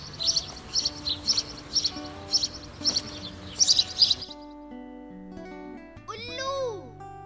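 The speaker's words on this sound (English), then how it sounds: "Sparrow." A sparrow chirps in a quick series of bright, evenly spaced tweets, close and clear, ending in a brisk flurry before a different sliding call takes over.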